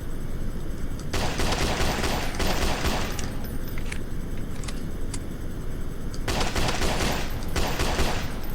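Video game gunfire against zombies: dense, continuous volleys of shots close and loud, with bursts of rapid fire and a few sharper single cracks over a constant backdrop of game noise.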